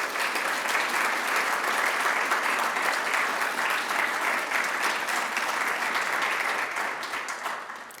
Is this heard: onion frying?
no